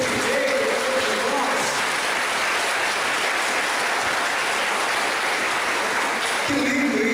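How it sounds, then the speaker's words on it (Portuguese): An audience at a Pink October health talk breaks into a sustained round of applause, steady dense clapping filling the whole stretch, with a faint voice near the end. "dá uma salva de palmas para você que veio"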